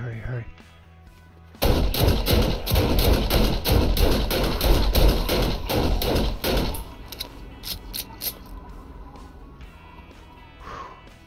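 Gunfire in the survival video game 7 Days To Die: a dense, sustained barrage of loud rapid shots for several seconds that thins out into scattered reports, with game sounds continuing after.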